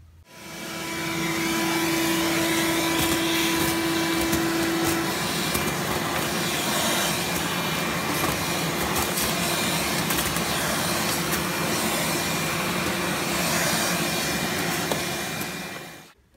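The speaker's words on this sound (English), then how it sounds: "I think I'm gonna vacuum that out." Vacuum cleaner running steadily to clean out the inside of an Xciting 500 scooter, a loud continuous whine and roar that holds for about fifteen seconds with no speech.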